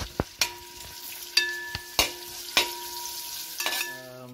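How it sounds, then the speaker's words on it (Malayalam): Onions and green chilies sizzle steadily in a hot pan, with a spoon repeatedly scraping and clanking against the metal in an irregular rhythm, close and alone. "ഇപ്പോൾ അതിലേക്ക് നമുക്ക് ബാക്കി സവോളയും പച്ചമുളകും കൂടി ആഡ് ചെയ്യാം. ഇത് നല്ലോണം വഴണ്ട് വരണം."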